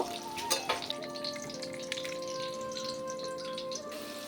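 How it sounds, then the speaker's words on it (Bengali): Carrots and long beans frying in oil for fried rice, a steady close sizzle and crackle with a few brief utensil clacks near the start, no voices. "গাজর বরবটিকে খুব ভালোভাবে কিন্তু ভেজে নিয়েছি"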